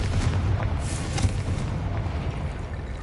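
Confringo blasting spell in the Hogwarts Legacy video game sets off a deep, rumbling explosion that merges into a steady low roar for a few seconds, with no voices heard.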